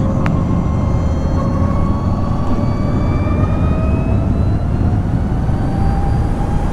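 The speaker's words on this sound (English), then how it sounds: "I can actually hear a little bit of electric motor noise, you know, a little bit of a whine there." Riding a LiveWire ONE electric motorcycle, with a thin electric motor whine rising slowly in pitch over loud, steady wind and road rush.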